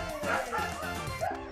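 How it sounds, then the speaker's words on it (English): Dogs yipping and whimpering in the background, a steady high-pitched fuss of barks and whines. "Sorry if you hear my dogs in the background again."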